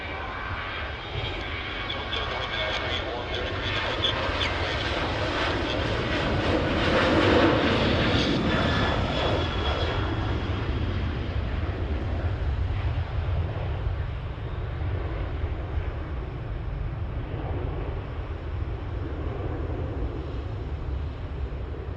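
A Velocity airliner passes at Sydney Airport, its broad, steady engine roar swelling to a peak near the middle and then slowly easing off, with wind buffeting the microphone throughout.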